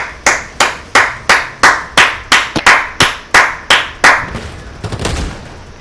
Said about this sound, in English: I'm clapping because my team did well